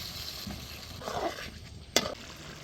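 Spiced, pre-fried potatoes added to a pan of cooked-down masala and tomato sauce for chicken curry, giving a soft, steady sizzle with a brief stirring scrape and one sharp clack of a utensil against the pan.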